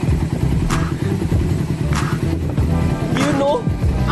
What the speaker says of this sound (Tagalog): ang tahimik na ng makina niya. Ang ganda na ng tunog.